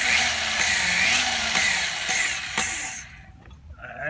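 An engine valve spun back and forth against its seat with grinding compound, a steady harsh gritty whir with rhythmic scraping pulses that cuts off abruptly near the end, loud and close.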